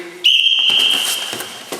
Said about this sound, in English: I'll say ready and whistle.